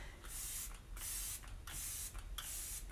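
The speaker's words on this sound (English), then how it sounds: "go in with your Let It Set Refreshing Spray" Four quick bursts of Arbonne Let It Set Refreshing makeup setting spray, each a close, bright hiss from a pump bottle misting over a finished face, evenly spaced with brief pauses between.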